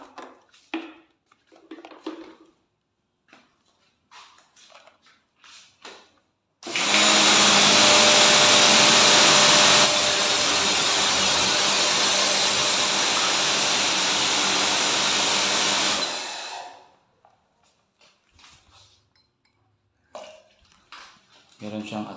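A Lutos LTPW140CX 1400W electric pressure washer starts abruptly and runs for about ten seconds as a loud, steady hissing roar, then cuts off; someone talks briefly before and after it.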